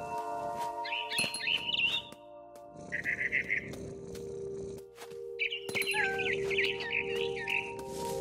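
A frightened barn swallow chirps rapidly in What Remains of Edith Finch, bursts of shrill twittering close by, alternating with rustling and a low musical drone underneath.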